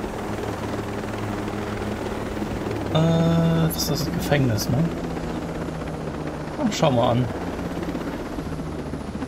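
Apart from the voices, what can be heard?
helicopter in video game Ghost Recon Breakpoint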